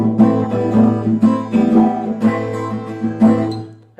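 Acoustic guitar strummed in a Spanish-style down-down-up pattern with fingers lifted off the chord, loud and close, a steady rhythmic run of bright strokes with no talking over it.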